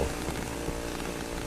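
A chainsaw in the horror video game Cry of Fear gives a loud, dense, unbroken roaring drone throughout the brief moment, with no talk.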